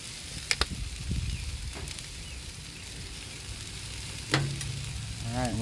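Peaches sizzle in melting butter on a Blackstone griddle, a steady close frying hiss with a few sharp scrapes and clinks of a spatula stirring them.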